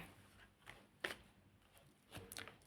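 Tarot cards being shuffled by hand, very faint and close, with a few short papery riffles and taps spread across a quiet room.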